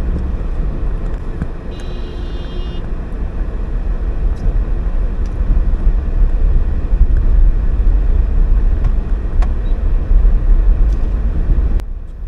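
Car driving through Spanish Town, Jamaica, a steady low engine and road rumble from inside the vehicle with wind buffeting, a brief tone near the start and a sharp click near the end.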